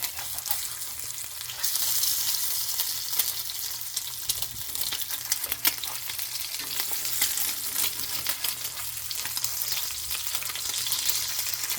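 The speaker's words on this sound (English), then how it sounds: "now this is that ham, and that said I'd fry it with some eggs." Ham frying alongside eggs in a pan, giving a steady, close hissing sizzle that runs throughout, with occasional faint crackles and no voices.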